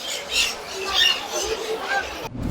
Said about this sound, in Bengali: বাইরে এখন পাখি কিচিরমিচির করে ডাকছে